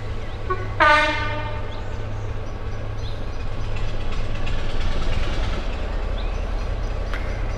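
A diesel train on the North Yorkshire Moors Railway sounds a short, loud horn blast, then its engine rumbles steadily underneath as it runs past nearby, with no voices.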